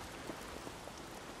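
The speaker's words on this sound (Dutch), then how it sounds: "Nou, beetje regen." Rain in the video game Days Gone hisses as a soft, steady patter of drops on surfaces, faint and continuous with no talking.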